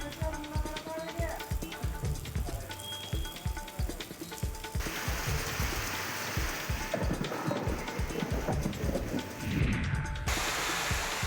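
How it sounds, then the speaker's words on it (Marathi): Heavy unseasonal rain driven by stormy winds in Dharashiv district pours as a dense, loud roaring hiss. A voice talks over the first few seconds before the downpour continues alone. "या ठिकाणी वादळी वाऱ्यासह अवकाळी पाऊस बरसलाय."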